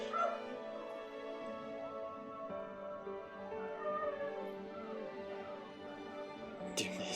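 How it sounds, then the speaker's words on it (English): A dog whimpers and yips in a steady stream of high, whiny cries, close and fairly loud, over a low background hum. "You hear my dog?"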